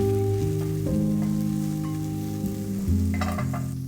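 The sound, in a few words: sauteing red onions and carrots in avocado oil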